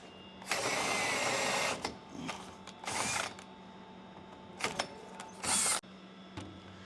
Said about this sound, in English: Now I'm gonna step up to a 3/8 inch drill bit.